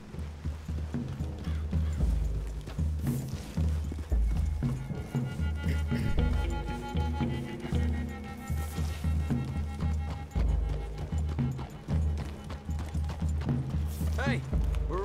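Horses' hooves clip-clop steadily on the ground in the video game Red Dead Redemption, a continuous near rhythm running throughout under characters' voices.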